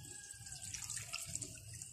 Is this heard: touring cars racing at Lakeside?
no